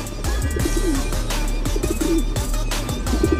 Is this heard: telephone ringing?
no